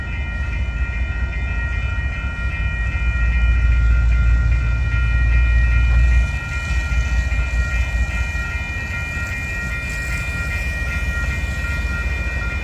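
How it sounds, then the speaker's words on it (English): Union Pacific locomotive 2579 leads a passing freight train in St Paul, Minnesota, a loud steady rumble with a deep low drone that swells midway and then eases into continuous rolling wheel noise. "the Union Pacific locomotive's here at a perfect timing. 2579 Union Pacific is the leading locomotive."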